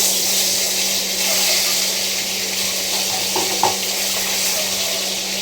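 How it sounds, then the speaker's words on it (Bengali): Eggs frying in hot oil, giving a steady, dense sizzle throughout with a faint steady hum underneath and a brief small knock near the end. "তেলটা গরম হলে এই তেলে আমি আগে ডিমগুলো ভেজে তুলে নেব"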